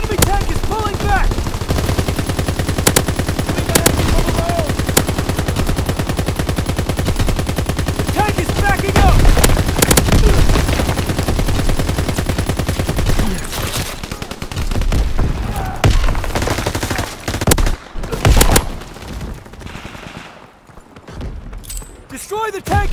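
Sustained machine-gun and rifle fire in a Call of Duty WWII tank battle, dense rapid bursts at close range that continue throughout, with shouted voices over the shooting.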